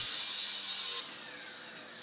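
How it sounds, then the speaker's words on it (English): A power saw cuts through 2x2 square aluminum tubing, a harsh, bright metallic whine that runs for about a second and then drops to a quieter spin-down. "I'm welding on this 2x2 square aluminum and cutting off what is not needed."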